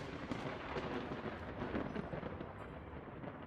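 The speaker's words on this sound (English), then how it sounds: "I wish the lightning strikes weren't so loud." A lightning strike in the VIESCRAFT video game sets off a dense, rumbling roar of thunder that holds steady and fairly quiet for a few seconds, with no voices over it.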